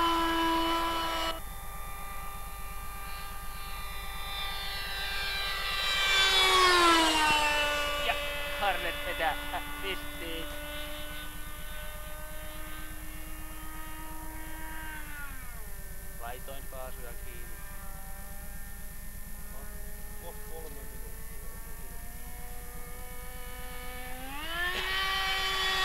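An F/A-18 fighter jet flies at a 1998 air show in Oripää. Its loud, sustained turbine whine holds steady, then swells and bends downward in pitch as it passes, later dropping lower and rising again near the end.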